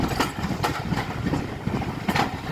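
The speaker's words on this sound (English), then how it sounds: "This is freight train." Freight train rolling past a station platform, a continuous broadband rumble with rail clatter and periodic clicks from wheels crossing rail joints, fairly close and steady throughout.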